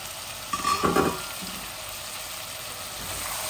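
Radish pieces are stirred in a hot pan, giving a short burst of sizzling and scraping that lasts under a second before fading to a quiet kitchen background.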